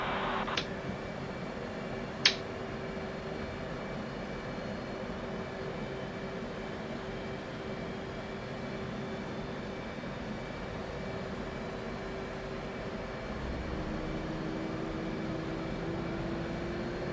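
An F/A-18C jet taxiing in the DCS flight simulator, a steady low engine drone with a constant tonal whine holding throughout, plus a couple of brief clicks near the start.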